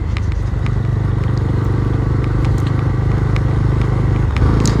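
A stock-exhaust Bajaj Dominar 250 BS6 (2022) on the move, its engine and exhaust holding a steady, loud, throbbing drone throughout with light rattles and clatter over it and no talking.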